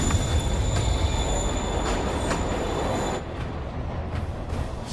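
A train rumbles along steadily in the Spider-Man PS4 video game, a dense rolling roar with a high wheel squeal and rhythmic clacks, loud and close, easing slightly near the end.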